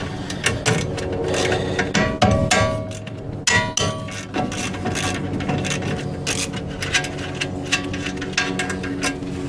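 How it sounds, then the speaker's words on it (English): Socket wrench work on the brake caliper bolts of a 2008–2018 Dodge Grand Caravan, with close, loud metallic clanks and clinks, rapid ratcheting clicks and tool knocks in an irregular, continuous clatter. "The brake caliper uses a size 13 socket, and we're gonna go ahead and take that off right now."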